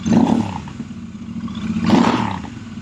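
A Royal Enfield Goan 650 motorcycle engine revved twice close by, rumbling up to a throaty roar, easing off, then roaring again.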